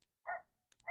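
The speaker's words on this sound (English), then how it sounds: "Look at that little ass dog barking hard as hell." A small dog barks, one sharp bark followed by the start of another, close by and fairly loud, with no voices over it.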